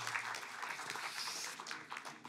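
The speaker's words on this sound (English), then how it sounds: "That deserves a round of applause." Audience applause at moderate distance at a World Affairs Council event, a steady wash of many hands clapping for a couple of seconds, thinning slightly toward the end.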